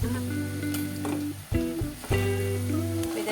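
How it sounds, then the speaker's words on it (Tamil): Torn tamarind pieces are stirred into sautéed ingredients for a coriander chutney, giving a soft sizzle with a few stirring bumps, set against a steady tonal background. "இந்த புளியும் சேர்த்துட்டு நம்ம நல்லா மிக்ஸ் பண்ணி விட்டுடுவோம்"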